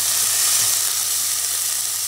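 Chopped onion sizzling in hot fat in a pot as the base for a Czech potato goulash with sausage, a steady loud hiss with no talking.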